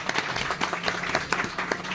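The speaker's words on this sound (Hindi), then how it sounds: "लिए जोरदार ताली।" Sustained applause from an audience at a traditional retirement farewell ceremony for a teacher, many hands clapping steadily and fairly close throughout, with no voices over it.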